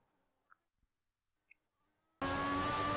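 A Formula One race car in a 2008-season racing game suddenly roars to full power. After near silence with a few faint clicks, loud, steady engine noise takes over.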